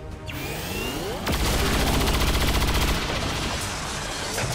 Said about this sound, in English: He might actually be able to kill it in one shot with his heavy cannon